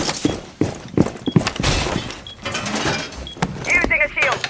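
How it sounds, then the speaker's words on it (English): Rainbow Six Siege welcome mat trap being deployed: a series of thunks, clacks and metallic mechanism clicks ending in bright jangling rattles, with game voice lines mixed in. "Deploying welcome mat."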